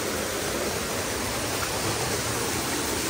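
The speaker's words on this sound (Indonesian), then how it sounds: "Ini ada curug kecil guys. Jadi kita lewatin sungai ini nih." Small waterfall and river at Curug Cibingbin in Sentul, Bogor, a steady broadband rush of falling and flowing water, loud and constant throughout with no talk over it.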